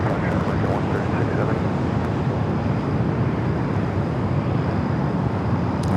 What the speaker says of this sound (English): Air New Zealand Flight 5 heading back to Auckland, now rolling down 25 right